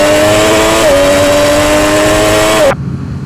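Motorcycle at full throttle on a race track, its loud engine whine holding high, then stepping down once as a quickshifter snaps through a near-instant upshift, until the sound cuts off abruptly near the end.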